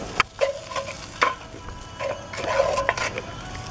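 BBQ baked beans and sausage get stirred in a pan, a spoon scraping and knocking in irregular clicks over a soft sizzle, close and fairly quiet, with no talking.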